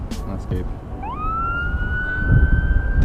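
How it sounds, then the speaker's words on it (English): An ambulance siren passing through Minneapolis streets, a rising wail that climbs then holds a steady high tone, heard from a rooftop over city traffic rumble and nearby voices. "Damn, that scared me. But it's an ambulance."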